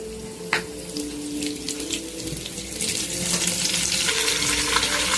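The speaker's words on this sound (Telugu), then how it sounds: "ఒక గంట ఆయిల్ వేసాను. 2 స్పూన్లు తాలింపులు వేసుకున్నా." Tempering seeds frying in hot oil for a raw onion and green chili roti chutney, giving a steady broadband sizzle that swells louder toward the end, with no talking.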